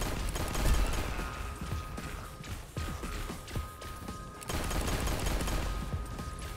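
Gunfire in the first-person shooter Echo Point Nova: scattered sharp shots mixed with mechanical clicks and footsteps over a steady game background, moderately quiet, no voices.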